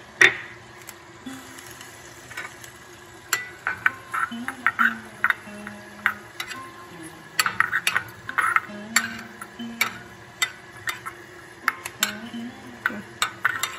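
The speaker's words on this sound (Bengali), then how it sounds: "এখন একটু কাসুরি মেথি দিয়ে দিচ্ছি, এটাও একটু রোস্ট হবে।" Kasuri methi and fried bori roasting in a pan for a Bengali cabbage ghonto, with repeated light clinks and scrapes of a spoon stirring against metal over a steady low background hum, no talking.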